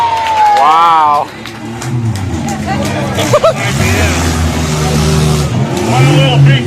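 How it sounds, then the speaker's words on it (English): A small, fast car revs at a demolition derby, its engine rising and falling in loud surges close by, mixed with crowd babble and talk. "One of the little big cars, a fast little car."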